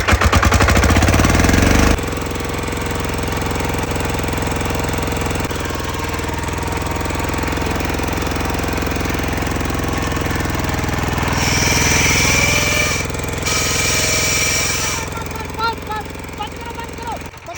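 A diesel power tiller engine knocking with a gear fault, a loud, rough, rapid hammering clatter up close that settles into a steady running drone, with a brief hiss later and no talk.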